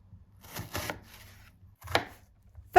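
Several sharp knife taps on a cutting board while an onion is chopped into small cubes, a quick pair then a pause, another chop, and a final louder strike, close and dry with no talk.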